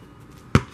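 A single sharp bounce of a basketball during quick dribbling, one close, punchy thud after a brief quiet moment.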